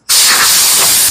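Compressed air blasting sanding dust off body filler, a single loud, close, continuous hiss that starts abruptly and holds steady throughout.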